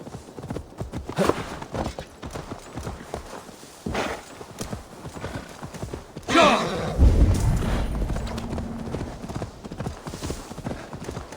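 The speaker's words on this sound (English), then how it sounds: "Now to deliver Magni his horse." Horse hooves clip-clop steadily in an Assassin's Creed Valhalla game scene, with a thud and a brief whinny-like rise midway, continuing over ambient background sound.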